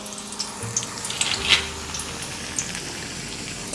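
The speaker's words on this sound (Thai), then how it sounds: "แล้วเราก็ทอดต่อไปเรื่อย ๆ เลยครับจนกว่าจะสุกนะครับ" Potato slices fry in hot oil, a steady close sizzle with scattered crackles and pops, loudest around the middle, with no talking.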